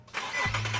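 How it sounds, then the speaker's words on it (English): A car engine cranks and catches right after fresh oil has gone in, settling into a steady low idle hum; close and fairly loud, with no talking over it. "I'm gonna go ahead and start the car"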